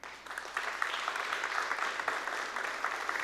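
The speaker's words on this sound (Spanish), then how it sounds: "Denle un aplauso al Señor." A church congregation claps for the Lord during a sermon, a moderate, fairly distant patter of many hands with some sharper individual claps standing out, continuing steadily without a break.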